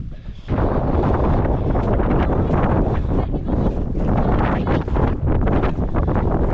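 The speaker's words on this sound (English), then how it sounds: "The winds are crazy up here though." Strong, roaring wind buffets the microphone on the summit of the Santa Ana volcano in El Salvador, starting abruptly and staying loud and continuous throughout with no speech.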